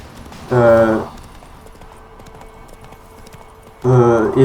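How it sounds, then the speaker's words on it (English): Hooves of a horse clip-clop in steady rhythm while it is ridden in The Witcher 3, in two short bursts with a quiet gap between them and no talk. "It is recommended to put on the horse stuff on Roach, so that, well, I mean, so she can actually go farther and she doesn't tire"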